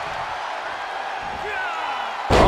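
A wrestler lands a suplex body slam in WWE 2K23 during a Friday Night SmackDown match, one sudden heavy thud at the end after steady crowd noise with commentary voices.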